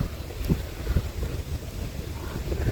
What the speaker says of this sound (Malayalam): നല്ല തണുത്ത കാറ്റും അടിപൊളി ക്ലൈമറ്റ്